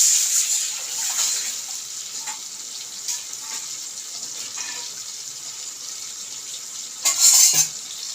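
Tamarind and tomato water for rasam pours into a hot pan, a hissing, watery sizzle that fades from a strong start and then flares again in a brief loud burst near the end.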